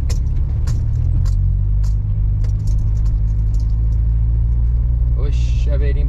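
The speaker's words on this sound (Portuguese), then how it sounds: "Chaveirinho barulhento, hein?" A keychain jangles intermittently in a car driving through Sorocaba, the light metallic rattles riding over a loud, steady road rumble, with someone talking partway through.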